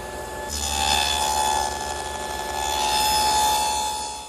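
A table saw fitted with a dado blade set to a quarter inch cuts grooves in wooden drawer pieces, a loud continuous whine and rasp as the stock feeds through, alone without talk.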